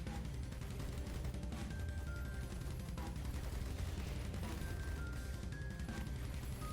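Cannon towers in the video game Rogue Tower, firing in rapid, overlapping volleys of booms and impacts, a dense continuous barrage with occasional brief tonal blips.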